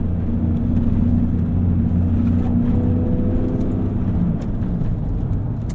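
A red BMW E39 M5 Touring station wagon on the move, its engine giving a steady low rumble with road noise throughout, no one speaking.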